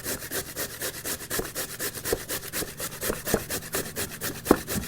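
Carrots being grated by hand for gajar halwa make a steady rhythmic rasping, repeated scraping strokes close up at an even pace, with no voices.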